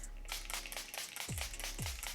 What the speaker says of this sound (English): I'm just gonna take my Milani Make It Last setting spray and spray my face before I powder.